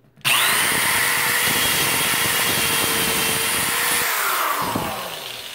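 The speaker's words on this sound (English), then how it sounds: "now I'm going to drill my hole right here" Power drill boring a hole into a closet wall for wire shelving, starting abruptly and whining at a steady high pitch for about four seconds before winding down, close and loud.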